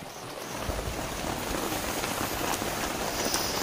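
Steady rain at dawn pattering on a surface, with a constant hiss and scattered louder drops, no voices.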